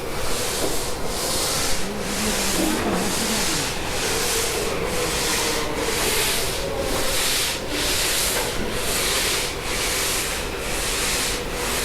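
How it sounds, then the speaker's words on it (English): Workers sanding a motor yacht hull with long flat sandpaper boards, producing a loud continuous scraping hiss with rhythmic back-and-forth strokes repeating about every second. "A long flat board, sandpaper, lots of elbow grease."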